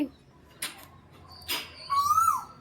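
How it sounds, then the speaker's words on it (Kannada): An Asian koel calls from a mango tree, giving a clear rising whistled note near the end, after a couple of short, softer sounds, over a quiet outdoor background. "ನಮ್ಮ ಗಿಡದಾಗ ಕೂತ್ಕೊಂಡು ಕೋಗಿಲೆ ಕೂ ಕೂ ಅಂತ ಕೂಗಾತೈತಿ"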